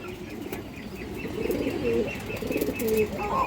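Pigeons coo in soft, repeated throaty bursts close by, with light wing flutters and small chirps mixed in among a group of birds.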